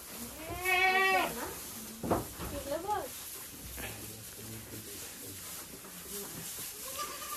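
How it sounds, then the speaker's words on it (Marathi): Goats bleat on a farm with cattle nearby, a loud wavering bleat early on followed by fainter calls, while people talk throughout. "इथे वर बकरे आहेत"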